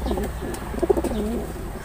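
Pigeons in a backyard loft coo softly and repeatedly in low, throaty bursts, with a slightly louder cluster of coos near the middle, under steady low background hum.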